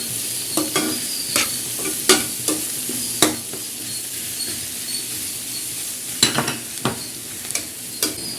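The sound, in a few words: stirring food frying in a pan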